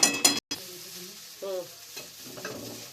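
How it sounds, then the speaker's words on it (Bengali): Nuts stirred and frying in ghee in a pan for flattened rice pulao, with a couple of sharp scrapes at the start and a soft, steady sizzle underneath. "বাদামগুলো দিয়ে দিচ্ছি দিচ্ছি ঘি দিলাম"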